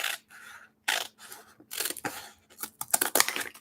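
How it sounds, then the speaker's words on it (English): Scissors snip and crunch through paper in a string of short, close cuts with brief pauses between them, fairly quiet overall. "I'm just going to take my scissors"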